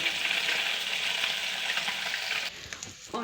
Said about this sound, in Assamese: এতিয়া মাছখিনি ফ্ৰাই হ'ল